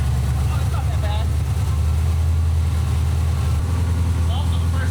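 A Ferrari F6 build's engine runs with its exhaust rumbling at a steady low idle, continuous throughout, with faint voices in the background.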